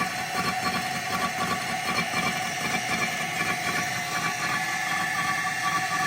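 A cylinder head resurfacing machine runs steadily on a vintage Hemi head in a machine shop, making a loud, continuous mechanical drone with a rhythmic churning pulse throughout.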